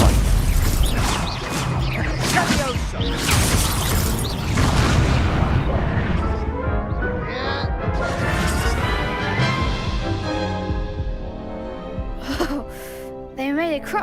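A fire spell bursts in a Hogwarts Legacy duel amid loud booming crashes and crackling impacts, with dense game effects and voices throughout.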